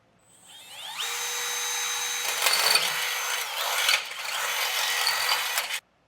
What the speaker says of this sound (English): run a pilot hole through the center, and then I'll come back with a 1/2-inch drill bit